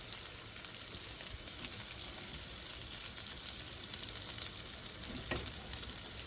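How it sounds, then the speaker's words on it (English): One package of bulk sausage sizzles steadily in a pan sprayed with olive oil, a constant close crackle and hiss with an occasional stir, and no talking. "I sprayed this pan with olive oil, and I'm cooking up some sausage."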